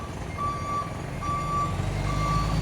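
A trailer truck backing up gives three evenly spaced reversing beeps over a steady engine rumble. No one speaks.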